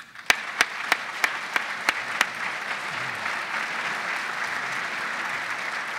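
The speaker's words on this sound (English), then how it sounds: "I'd like to give everybody a round of applause" Several loud, sharp claps ring out one after another, then the room fills with steady applause from an audience at a CIA symposium, with faint voices mixed in.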